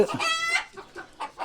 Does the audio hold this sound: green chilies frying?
no